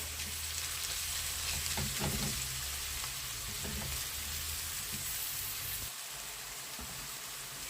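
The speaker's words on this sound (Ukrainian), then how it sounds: "просмажуємо хвилин 5, щоб морква змінила колір, стала така ніби прозорою і віддала свій колір е, олійки" Carrots fry in oil in a pan over medium heat, producing a steady, close hiss and crackle that runs without a break and thins slightly near the end, with no talking.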